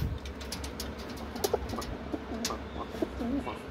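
Shah-eyed breed pigeons cooing nearby, several low throaty rolling coos over a steady rumbling background.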